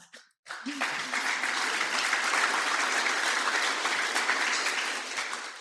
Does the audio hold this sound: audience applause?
yes